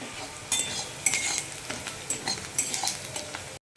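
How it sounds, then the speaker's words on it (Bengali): Chopped onion, garlic and green chili hit hot oil in a pan for a fish curry, crackling and sizzling loudly up close with sharp bursts as a spatula stirs and clinks against the pan. "তেল গরম হয়ে গেছে, দিয়ে দেবো পেঁয়াজ কুচি"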